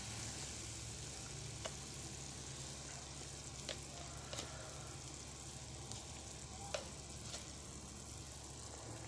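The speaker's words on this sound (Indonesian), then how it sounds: "ini udah mendidih. Sekarang saya masukkan ikannya." Snakehead fish going into a pot of boiling broth for Indonesian pindang ikan gabus: a steady, fairly quiet bubbling hiss with a few soft clicks and light splashes scattered throughout.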